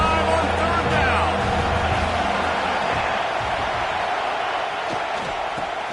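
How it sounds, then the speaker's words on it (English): An Ohio State Buckeye football stadium crowd roars on a third down, a dense, sustained wall of cheering that fades slightly while a commentator talks over it. "the Buckeye crowd alive on 3rd down"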